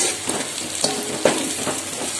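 Onions sautéing in a pan give a constant close hiss of frying, broken by a few light spoon scrapes and taps, with no voices.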